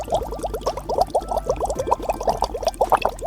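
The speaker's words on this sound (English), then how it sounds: "You can see the water is boiling down there. You can see it bubbling slowly." Water boiling in a pot on a medium gas flame for vermicelli soup, with steady close bubbling and popping in a quick, irregular rhythm and no talk.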